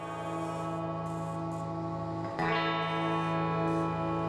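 Self-tuning electric guitar with Chameleon tone simulation playing a sustained, heavily processed chord that rings with a chorus-like, distorted shimmer, then shifts abruptly to a new tone partway through. The sound is loud and continuous.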